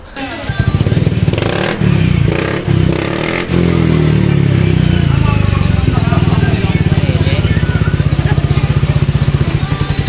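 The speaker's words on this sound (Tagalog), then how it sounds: "mas gumanda pa yung naging response nitong ating motorcycle" A tuned motorcycle engine with fuel-injection tuning and ignition work, running loud and close with a rapid, even idle. It revs up in a few bursts near the start, then settles back into a steady throbbing beat while a voice talks faintly.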